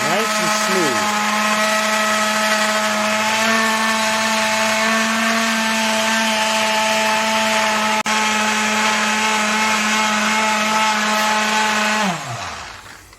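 A kitchen blender purees an achiote and guajillo chicken marinade, its motor spinning up and holding a loud, steady whine for about twelve seconds before winding down at the end.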